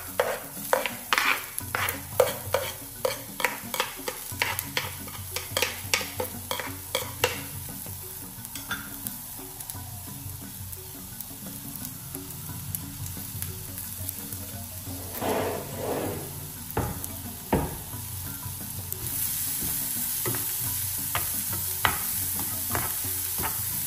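Garlic rice ingredients fry in a pan with a soft continuous sizzle, while a spoon scrapes and stirs in quick clattering strokes, busier at first and steadier later.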